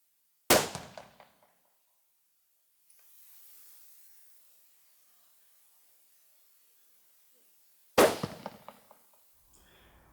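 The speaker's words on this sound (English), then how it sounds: "Now I'll take a couple more shots to see if I can get a nice group" Two loud rifle shots about seven seconds apart on an outdoor long-distance range with targets at 200 metres, each a sharp crack with a short rolling echo tail, and near silence between them.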